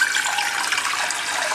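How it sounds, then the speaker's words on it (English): Tap water gushes steadily into a cooking pot being filled for boiling corn pudding, a close, bright hiss of running water that lasts the whole moment with no voices. "I just fill this pot with half of the water."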